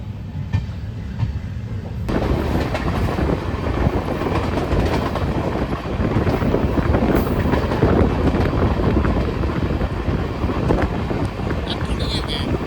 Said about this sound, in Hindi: ये ट्रेन बरेली जंक्शन पहुंचने वाली है